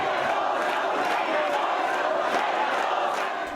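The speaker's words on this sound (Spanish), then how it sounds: "El fin del cabildo se dio en medio de arengas de quienes apoyan la revocatoria y aplausos de quienes apoyan las políticas de Peñalosa" At the close of a town council meeting a large crowd sends up a loud, unbroken wash of chanting and shouting, with applause blending into it and holding steady until it eases slightly at the end.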